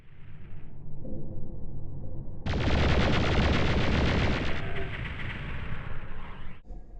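A loud, heavy burst of super shotgun fire in the PlayStation game Doom erupts after a quieter opening and roars on for several seconds before cutting off.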